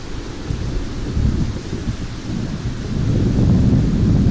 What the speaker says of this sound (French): la période où la pluie bat son plein à travers tout le pays